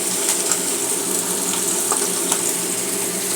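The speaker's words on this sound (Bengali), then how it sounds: "মাছগুলো ভাজা হয়ে গেছে" Hilsa fish sizzle and crackle steadily in a hot pan, a constant close, bright frying hiss with occasional small pops and no talking.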